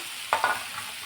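Ginger and garlic frying with tomatoes in a pan for a dhaba-style dum aloo gravy, a steady soft sizzle with two quick stirring scrapes near the start, close and alone.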